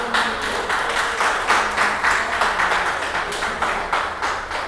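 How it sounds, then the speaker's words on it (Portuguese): A church congregation applauds in a steady, rhythmic burst of many hands clapping together, loud and filling the room with even pulses. "Aplauda o Senhor."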